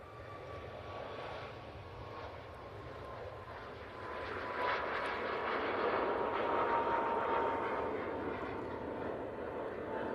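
A Ryanair airliner at Manchester Airport sends a steady, fairly distant engine roar that swells slightly midway and holds, with no talk over it.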